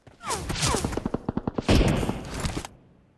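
Rapid bursts of gunfire from the mobile battle-royale game PUBG Mobile, loud and close, crackling in quick repeated shots with a heavier volley near the end.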